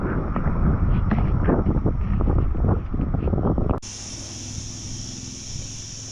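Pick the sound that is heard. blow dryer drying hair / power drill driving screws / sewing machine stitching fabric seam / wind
wind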